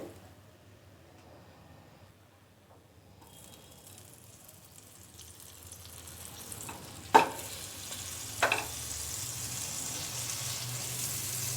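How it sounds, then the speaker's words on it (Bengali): Sandwiches fry in butter in a pan over a medium-low flame, with a soft, quiet sizzle that grows slowly and two sharper clatters near the end. "এগুলো এক এক করে বাটার দিয়ে ভেজে নেব।"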